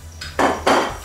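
Fried oxtail is placed onto a plate with two quick scraping, clattering bursts of utensil against dish, close and fairly loud.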